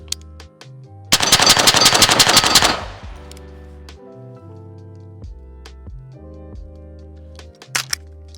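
Rapid burst of gunshots from a firearm fired at a target at 25 yards, a loud, fast string of sharp cracks lasting about a second and a half, with quiet background afterwards.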